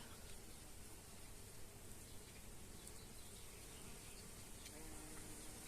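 Bees hum softly and continuously around a Princess Sibilla de Luxembourg shrub rose, a faint steady buzzing with outdoor noise around it.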